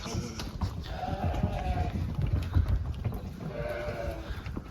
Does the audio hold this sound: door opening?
no